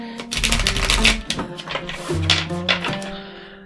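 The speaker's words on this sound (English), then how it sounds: "just going to kind of fan these things out in front of me" A freshly opened deck of esoteric art cards being handled and fanned out close by, a quick run of crisp flicking and riffling clicks followed by softer shuffles and slides.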